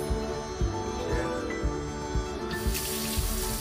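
Water runs from a tap fed by a camper van's electric water pump, a steady close splashing flow with a faint pump hum underneath.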